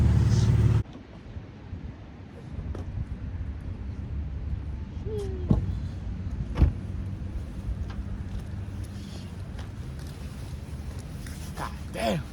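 A 2013 Nissan 370Z Nismo idles with a steady low engine rumble, moderately loud and even, with a few faint clicks and knocks over the drone.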